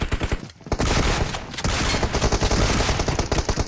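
Rapid gunfire in the mobile battle royale game PUBG Mobile, dense bursts of loud shots crackling in quick succession with a couple of brief gaps.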